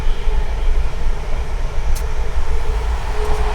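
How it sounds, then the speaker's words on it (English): A big train rolls past at close range, a steady loud low rumble with rattling wagons that holds from start to finish without a break. "Big train."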